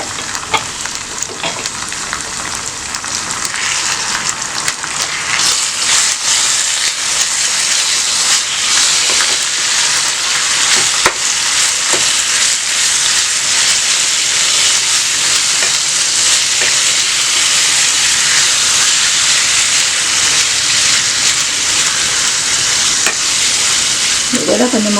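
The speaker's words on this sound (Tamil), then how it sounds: "இப்போ கைமா போட்டுக்கலாம்." Minced mutton keema sizzles and hisses in a hot pan while being stirred for biryani, a loud, dense, continuous frying crackle lasting throughout with occasional scraping.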